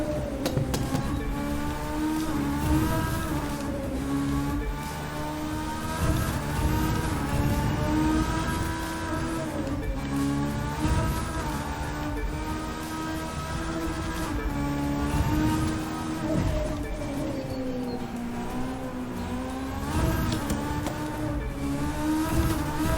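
Race car on a track in The Crew 2 video game, a steady loud engine drone with rising and falling revs and gear changes running throughout.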